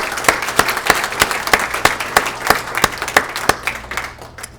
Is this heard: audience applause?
yes